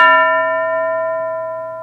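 A single bell struck once in a classroom lesson setting, ringing out clearly with a bright, sustained tone that slowly decays for about two seconds, alone with no talk.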